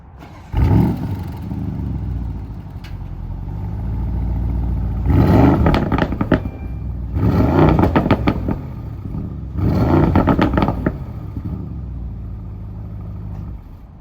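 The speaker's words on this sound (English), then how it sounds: "you could really hear the exhaust of the car" Porsche Cayenne Turbo V8 exhaust at idle, blipped in three sharp revving bursts that roar up and fall back, close and loud with a steady rumble between them.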